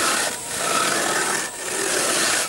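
Granite chips grinding against sandstone to make sandstone flour give a loud, continuous gritty rasping scrape that pulses slightly in two or three strokes, close up, with no voices.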